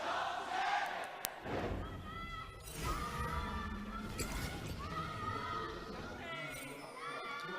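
A loud esports arena crowd of League of Legends fans at an LPL Spring Split match chants and roars continuously, dense shouting rising and falling with a caster talking over it.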